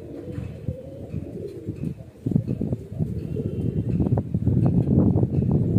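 Baby highflyer pigeons coo softly in a close, low, rumbling murmur that runs throughout, with handling noise and rustling mixed in.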